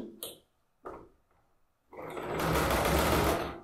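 Sewing machine stitching a zipper bag: two short bursts of stitching separated by pauses, then a longer steady whirring run of needle clatter close up, with no talking.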